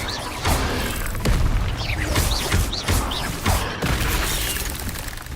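Bombarda blast spells in Hogwarts Legacy, several booming explosions at a steady rhythm amid crashing impacts and game combat noise.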